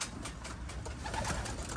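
Pigeons or doves cooing softly in a continuous murmur, several birds close by with a steady background hum.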